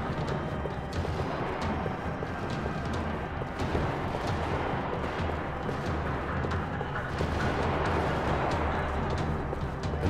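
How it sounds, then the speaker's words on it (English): Dense, continuous gunfire rattles throughout with booming blasts in a parking lot firefight in the video game Max Payne 3, a steady loud barrage with no clear talking. "Another parking lot rattling with gunfire."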